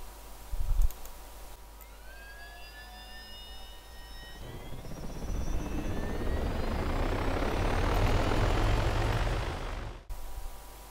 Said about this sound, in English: Alternatively, helicopters can be ordered to take off by themselves.